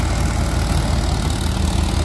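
An Arjun 555 Ultra 1 DI tractor drives a thresher, its diesel engine chugging steadily at a loud, even pitch, close and continuous with no voices.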